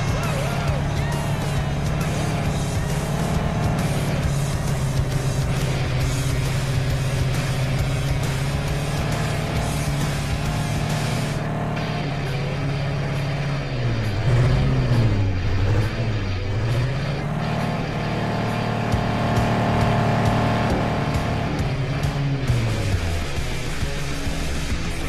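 A 4x4 jeep engine drones continuously in an Android offroad driving game, loud and steady, its pitch rising and falling as it revs and shifts.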